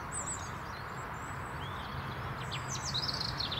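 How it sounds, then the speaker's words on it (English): A small robin singing in a garden tree in early spring, faint high chirps and trilling phrases far off over a steady outdoor background hum, with no talk. "you can see a little robin there in the tree. You can just see the red. Well, yeah, you can hear him now."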